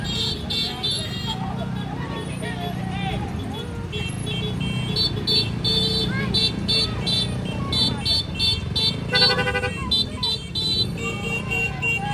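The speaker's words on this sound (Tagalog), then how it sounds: "Ito nito Pasyo, sumakay ng motor" A motorcycle moves through busy street traffic among gathered supporters, engine and road noise steady under crowd chatter, with horn toots and other vehicles passing nearby.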